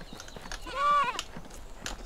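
A goat kid and sheep in the Medieval Dynasty video game, one clear wavering bleat near the middle, with soft rustling and faint game ambience around it.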